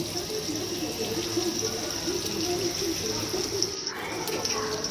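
A steady stream of water pours into a pot of Tamil-style paarai fish curry masala, a continuous even splashing hiss that fills the whole stretch and sounds close.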